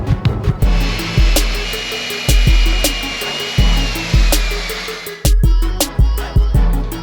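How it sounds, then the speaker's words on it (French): A power saw grinds steadily through a metal tube, its motor buzzing loudly with a high whine, interrupted by regular clanking clicks. "J'ai mon tube qui est prêt, ma scie qui est réglée, je lance la découpe."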